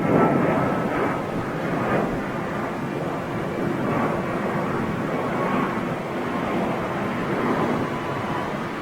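Embraer jet aircraft making a go-around at Madrid Barajas airport, a steady, broad, distant roar of jet engines that holds at an even level throughout, with some wind noise and no talking.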